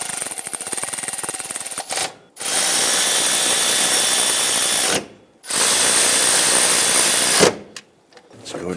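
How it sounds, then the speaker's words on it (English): Power tool driving and tightening a nut on a power steering pump of a 2000-2006 Toyota Tundra, three loud sustained whirring bursts separated by short pauses, the last ending in a brief ratcheting tail. "I'm going to go ahead and install that nut now."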